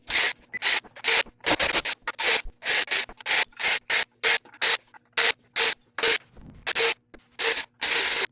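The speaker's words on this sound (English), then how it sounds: "we're gonna get our power tool now that everything's loosened, get our bolts and our nuts down a lot faster" Power tool spinning off oil pan bolts and nuts on a 2008 Lexus IS F during an oil pan replacement, heard as a rapid series of short, loud bursts separated by brief pauses, close by with no talking.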